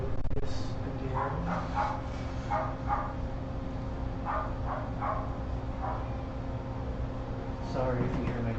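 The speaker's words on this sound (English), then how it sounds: "Sorry if you hear my dogs in the background and further noise." Dogs barking and yipping in a home workshop during a red cedar wood engraving session, several short barks scattered through the clip, moderately distant, under steady hum and some talk.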